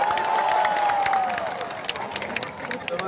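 A large crowd applauds and cheers at the opening of the Tuna Festival in General Santos City, a dense wash of clapping and shouts that fades a little toward the end, with a whistle-like tone early on.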